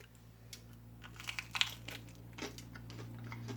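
Close, crisp crunching and crackling bursts as crusty garlic bread is bitten into, a handful of brittle snaps over a low background hum.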